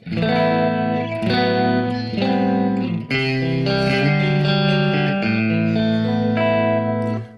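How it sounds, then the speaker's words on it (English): An electric guitar plays a clean Marshall Super Bleed 100 amp tone with a little natural reverb. Loud, sustained chords ring continuously, one shape after another, alone without voices. "So I have an amp, of course, the Marshall Super Bleed 100, so a clean Marshall tone."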